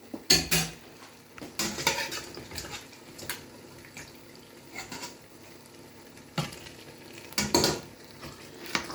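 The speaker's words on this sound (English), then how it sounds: "As I'm putting, I'm stirring to avoid burning because of the crayfish." A spoon stirs tomato stew with crayfish in a pot, giving bursts of close metallic scraping and clinking against the pot between quieter stretches, with a faint background simmer.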